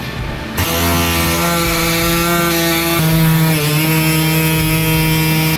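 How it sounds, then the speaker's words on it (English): Power tool cutting a snorkel hole through the body panel of a third-generation Toyota Tacoma, a loud sustained buzzing drone with steady pitch that shifts slightly partway through, close and uninterrupted. "All right, we've got our hole cut."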